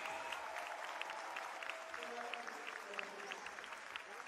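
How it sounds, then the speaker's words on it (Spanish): An audience at a Señorita Colombia pageant claps in sustained applause, faint and distant, the individual claps blurring into a steady patter. "Un aplauso grande, que se sienta,"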